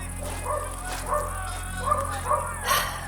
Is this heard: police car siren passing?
no